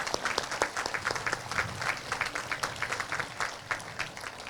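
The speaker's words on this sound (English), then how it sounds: "Can we have a round of applause for them" Steady applause from an audience at a school promotion ceremony, many hands clapping continuously at moderate distance for several seconds.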